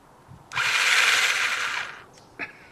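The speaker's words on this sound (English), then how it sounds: "turn on the chainsaw." A homemade two-handed chainsaw sword switches on with a sharp start, whirs at high pitch for about a second and a half, then winds down, followed by a brief click, close up.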